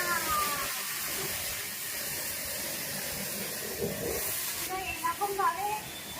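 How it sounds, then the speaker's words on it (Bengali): A pressure washer sprays a Royal Enfield Classic 350 motorcycle with a steady, close hiss of water jet, while people talk over it and the spray briefly splashes more unevenly near the end. "হেল্প করে দিচ্ছি ফর প্রেসার ওয়াশ। ইন্টারেস্ট লেগেছে সেই জন্য ও বন্দুক চালাবে।"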